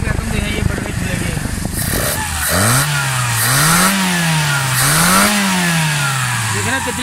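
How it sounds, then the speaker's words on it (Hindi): Suzuki Alto car engine with a missing silencer, plug and fuel fault, idling roughly and then revved repeatedly in rising and falling surges, loud and close, with someone talking over it. "माशाल्लाह गाड़ी स्टार्ट है, बिल्कुल स्मूथ, स्टिल ज़बरदस्त साउंड है गाड़ी का"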